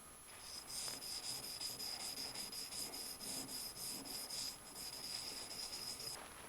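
A 1911 pistol sight being sanded down to fit, heard as a steady, close scratchy rubbing that runs continuously for several seconds in rhythmic back-and-forth strokes, with no talking.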